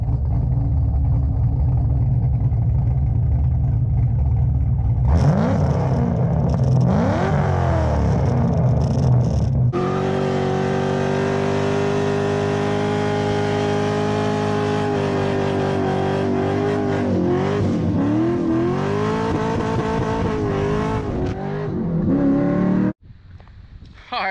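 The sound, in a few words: 1999 C5 Corvette engine running and revving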